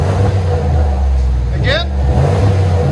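A 2002 Lincoln Continental with a 4.6L V8 and muffler-delete dual exhaust idles with a loud, steady low rumble, a brief rev rising partway through, while a person talks over it.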